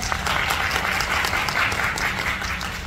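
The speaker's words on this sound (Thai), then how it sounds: "ขอเสียงปรบมือเลยฮะ" A crowd claps steadily and densely at a press conference for a 2022 world tour, the applause continuous and fairly close, with a few sharper individual claps standing out.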